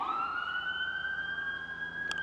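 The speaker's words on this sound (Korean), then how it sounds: "아, 여기 미국은 소방차 소리 정말 커요" Fire truck siren on a street in the United States, a loud sustained wail sweeping slowly upward in pitch as it passes close by, heard alone without talk.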